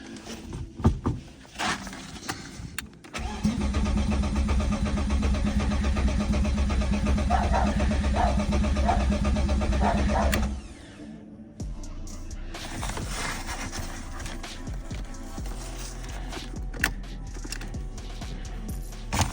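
A turbocharged BMW E36 car engine cranks and catches for its first start, then runs with a steady loud hum for several seconds before cutting out; quieter mechanical noises follow.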